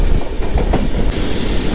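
Navajivan Express coach noise as the train slows after Krishna Canal Junction: a steady broadband rumble and hiss with faint clatter underneath, loud and continuous with no voices.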